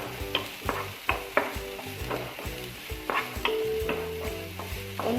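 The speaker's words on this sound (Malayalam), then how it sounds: "ഒരു സവാള ചെറുതായിട്ട് നുറുക്കിയെടുത്തതാണ്, അതും കൂടി ഇതിലോട്ടേക്ക് ചേർത്ത് കൊടുക്കാം" Chopped medium-sized onion sautéing in hot oil, with a steady close sizzle broken by repeated sharp scrapes and taps of a spoon stirring against the pan, no voices.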